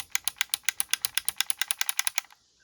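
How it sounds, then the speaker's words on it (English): Rapid, evenly spaced plastic clicks from the trigger of a Classics Megatron toy gun, about twenty in a row, crisp and close, stopping after a couple of seconds. "when you pull the trigger, it actually has a clicking sound built in"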